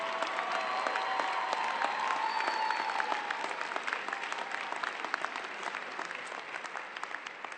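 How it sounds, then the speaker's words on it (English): An audience at a Kean University graduate commencement in 2014 applauds continuously, a dense crowd clapping that stays strong and gradually thins toward the end, with no talking over it. "You see how much applause I'm getting"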